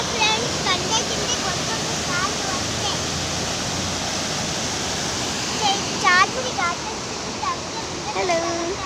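Loud, steady rush of water flowing over rocks toward a big waterfall at Charmudi, continuous and close, with faint voices and short whistly chirps over the roar.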